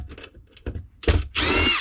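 Power drill backing Phillips head screws out of an aluminum frame: a few short taps, then two bursts of motor whir, the last and loudest running to the end, close up with no talk.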